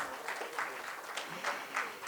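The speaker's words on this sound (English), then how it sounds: "let's give a huge round of applause for Mr. Gaurav Mathur" Audience applause from a crowd at a conference speaker introduction, steady clapping at moderate distance, fairly faint with a few louder bursts.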